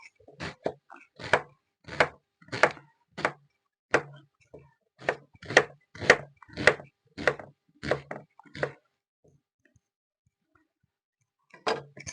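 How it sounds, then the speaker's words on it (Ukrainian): Onion chopped with a knife on a board, a run of crisp, regular cuts roughly twice a second, close and clear, then a pause before a few more strokes. "Вже міста нема куди рубати ту цибулю."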